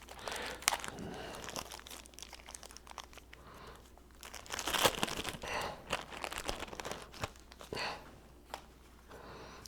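Plastic packaging around a 7.4 volt radio battery crinkles and crackles in irregular bursts as it is unwrapped, close and fairly quiet, with one louder rustle midway.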